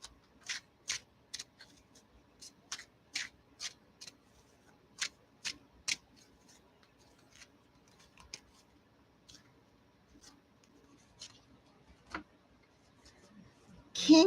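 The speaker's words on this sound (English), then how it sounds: "So I'll pull two more cards for that." Tarot cards shuffled and drawn from the deck: a quiet run of crisp riffling snaps and slides, a few light taps spaced out afterward, close and soft, with no talking over them.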